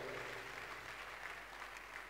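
A church congregation claps together during a healing ministration service, steady dense applause holding at an even level throughout, with faint voices mixed underneath.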